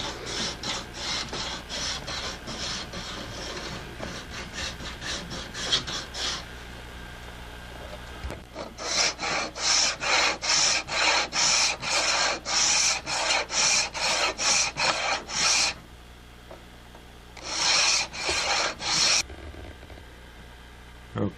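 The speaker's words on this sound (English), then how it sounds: "I can take this metal strip off, just an old hacksaw blade, and then cut the grooves normally." An old hacksaw blade cuts grooves into wood for an Asiatic composite bow, giving fast, steady rasping back-and-forth strokes in close, loud runs with brief pauses between bursts.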